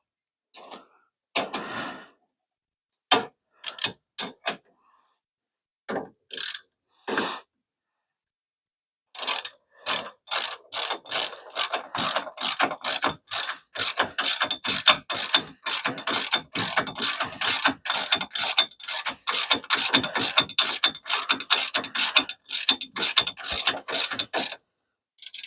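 Rapid ratchet-wrench clicking while tightening bolts on a hemi Plymouth Duster during front bumper installation; a few scattered clicks at first, then long steady runs of quick, close, crisp ratcheting.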